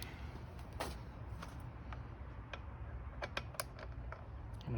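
A ratchet tightens the windshield bolts on a Trail CT125 motorcycle, quick rapid clicking bursts in short runs over a quiet background, close up and without talk.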